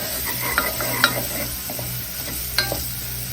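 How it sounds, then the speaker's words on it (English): Garlic and Thai chilies sizzling in a pan, a continuous close fry with a few sharp utensil clicks and stirring scrapes over a low steady hum. "Now that our garlic's starting to sweat, I'm going to add our Thai chilies."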